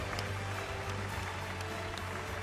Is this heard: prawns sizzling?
no